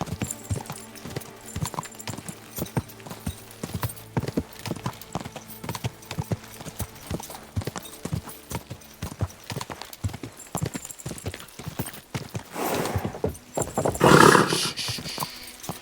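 Rapid hoofbeats of a horse in the video game Kingdom Come: Deliverance II gallop in a steady, driving rhythm throughout, building to a louder roaring whinny near the end.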